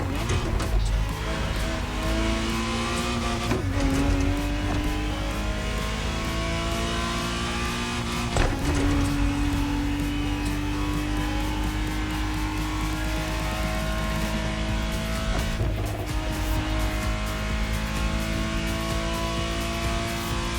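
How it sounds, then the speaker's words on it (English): A 1991 Ferrari Testarossa engine driven in The Crew Motorfest revs and climbs through gears in steady rising pulls, with sharp shift breaks and occasional tire squeal, loud and continuous under a voice talking. "The exact model Motorfest has put in your hands is the 1991 re-engineered version of the Testarossa"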